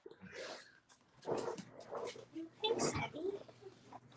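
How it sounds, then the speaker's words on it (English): Dogs at home whimper, whine and let out short barks as a mail carrier approaches, a series of close, fairly quiet bursts with snuffly breaths between them. "you might hear some barking because I see the mail lady coming"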